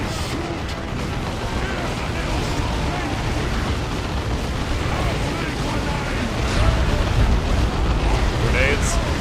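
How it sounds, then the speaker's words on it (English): Dense, continuous rumble of grenade blasts and battlefield clamor in the strategy game Dawn of War 2, loud and unbroken, with a swell of heavier impacts near the end. "Grenades."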